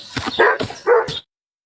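A short burst of several quick dog barks close by in a backyard, loud and yappy, ending abruptly into silence.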